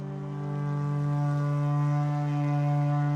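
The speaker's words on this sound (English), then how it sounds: "You'll start when I sound the horn." A long, steady horn blast sounds to start a race in The Witcher 3 on Skellige, a deep droning tone held for several seconds, fairly faint and alone, with no talk over it.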